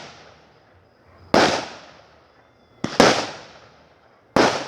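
Canada Day fireworks exploding overhead in three loud, sharp bangs, each followed by a fading crackle and echo, spaced about one and a half seconds apart, with quiet gaps between and no voices.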